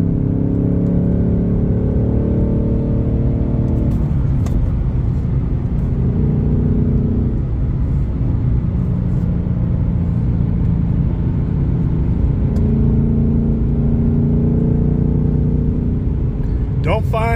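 A car's combustion engine drones and revs loudly and steadily throughout, a constant close rumble with pitch that swells and settles, alone until a brief sharp noise at the very end.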